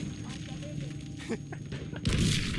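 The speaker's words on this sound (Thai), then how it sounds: "โดนดิปืนใหญ่ที่ยิงสองรอบมาละ" Heavy booming artillery cannon blasts and sharp gunfire crackle through a noisy Battlefield V game soundscape, ending in a loud burst of explosive rumble.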